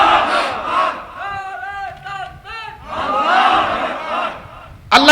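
A crowd at a religious gathering roars takbir in unison, loud massed shouts rising and falling in a few call-and-response waves, with a single voice leading between them.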